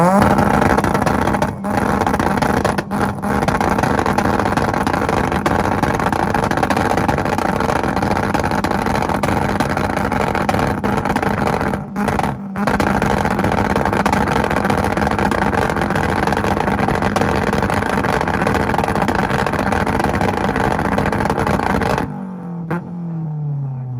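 A Mazda Miata engine bangs and crackles on a two-step launch limiter at an import rev battle in Tulsa, loud and sustained for about twenty seconds with staccato pops, then cutting off abruptly.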